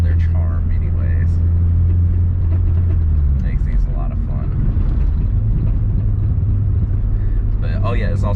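An early 2000s GM four-cylinder car fitted with long tube headers drones with a steady, loud low rumble throughout, its pitch shifting partway through, while someone talks over it.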